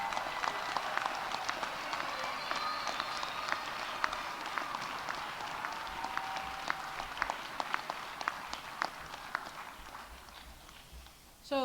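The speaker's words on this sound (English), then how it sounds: "I'd like you to turn around and applaud your family and friends for their loving support" Graduation crowd at a university business school celebration applauding family and friends, a broad ongoing patter of many hands with scattered sharper claps, moderately distant and steady throughout, ending with a brief louder bump.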